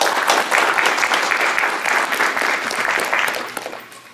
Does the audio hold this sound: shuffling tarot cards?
no